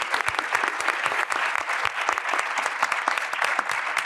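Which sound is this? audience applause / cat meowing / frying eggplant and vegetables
audience applause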